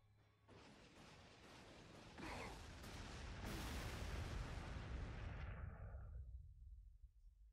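Whirlwind artillery barrage in the Warhammer 40,000 Sanctus Reach strategy game: a loud, dense roar of launches and impacts that builds and swells for several seconds, then trails off into a fading rumble, with no talk over it.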